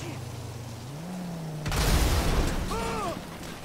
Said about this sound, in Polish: będzie chyba zaraz wybuch